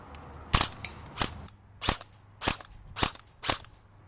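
Six sharp, evenly spaced shots from an airsoft gun with a mechbox gearbox, each a crisp close crack with a quick mechanical snap, separated by short pauses.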